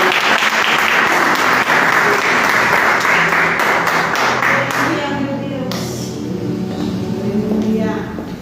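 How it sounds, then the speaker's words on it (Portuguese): A church congregation at a family worship service applauds loudly, dense clapping that tapers after several seconds as voices rise underneath. "Nós oramos e aplaudimos a ti, ó Deus,"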